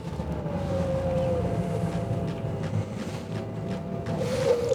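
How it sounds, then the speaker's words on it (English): A Jeanneau Merry Fisher 1095 Fly flybridge motor boat manoeuvres slowly away from a pontoon, with a steady low engine rumble and a faint whine running throughout, fairly close and with no talk. "Now we'll just come over slightly to move us away from the pontoon"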